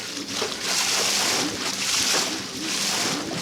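A sailboat pushes through light surf: rushing water and wind swell and fade in a continuous wash, close and moderately loud.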